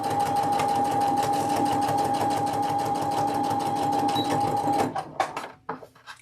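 A sewing machine runs steadily stitching quilt block seams, a loud continuous motor whir with a steady tone, then stops near the end, leaving a few short clunks and handling noises.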